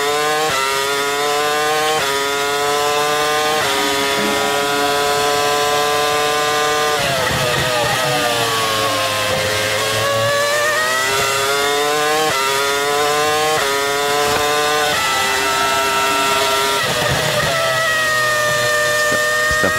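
Honda Formula 1 car from the 2005 season at the English Grand Prix, its engine screaming at full throttle through sixth and seventh gear, loud and continuous with rising pitch sweeps and sharp shifts between gears.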